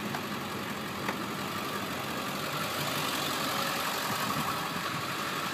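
A Ford 7.3L diesel with a CNG conversion idles steadily, running on natural gas and diesel with a constant, even rumble and clatter at close range, with no talk.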